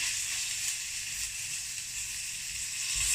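Pork belly sears in a hot pan, giving a steady, even sizzle and hiss that runs unbroken throughout, with a couple of soft low bumps from the pan.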